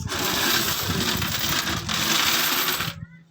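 Coins drop and clatter in a dense, continuous jingling rush, close and fairly loud, before cutting off abruptly near the end.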